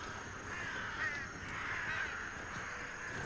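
Crows cawing in the video game Redfall, a few harsh calls spread over a quiet, faint ambient background with no talking.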